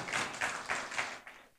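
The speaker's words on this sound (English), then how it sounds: "So I'd like us to give all ourselves a round of applause" An audience giving a round of applause at a university social responsibility event: a brief burst of clapping that swells and fades in soft waves, with no voices.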